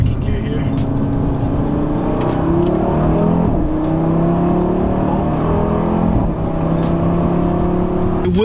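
A 2018 Audi RS3 accelerates in second gear, its engine note rising steadily and loudly from inside the cabin for the full stretch, with a continuous rumbling drone under the run.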